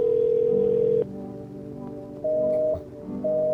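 Steady electronic telephone tones from a call to a neighbor's house: a long tone for about a second, a pause, then shorter higher tones returning at intervals, close and clear with no talking.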